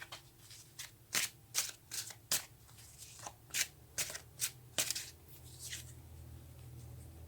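Tarot cards being shuffled by hand, a run of crisp riffling bursts repeating at a steady pace, close and fairly quiet with no talking.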